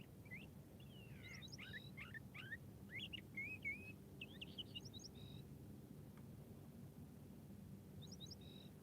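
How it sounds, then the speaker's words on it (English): Songbird about 30 to 40 feet away on a Sunday morning outdoors, giving a series of short, varied chirping phrases over the first five seconds, then one more brief call near the end, moderately faint above a low, steady outdoor rumble. "we're doing birds, as you can hear. I got the mic facing towards that bird."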